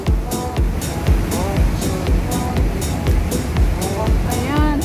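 Harbour water churns and splashes beside a Star Ferry on its crossing to Tsim Sha Tsui at night, a restless wash under close, animated talk and scattered clicks.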